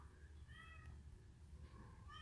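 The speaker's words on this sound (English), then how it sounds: "My cat's back." A cat meows softly a few times, with short rising calls over a low background rumble and no talk.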